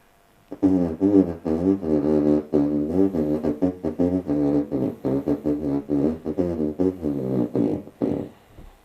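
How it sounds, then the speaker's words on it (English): A flat, buzzy droning voice tone with no clear vowels, rising and falling in pitch through a series of connected phrases. "The voice source should sound something like this."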